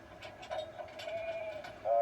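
Sheep gathered in a pen before shearing, bleating faintly in a few drawn-out calls against a low murmur of background voices.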